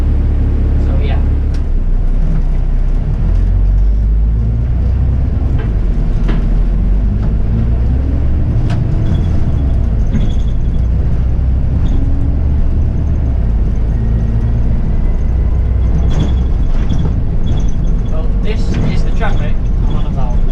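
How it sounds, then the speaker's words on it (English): Road traffic near Piccadilly train station rumbles steadily, heard from inside a car, with a dense low drone of passing vehicles that continues throughout. "Traffic I'm on about."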